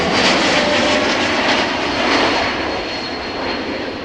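An Embraer E2 jet airliner from Berlin passes on approach to Amsterdam Schiphol Airport. Its engines make a loud, steady, broadband roar that fades slightly toward the end, with no voices.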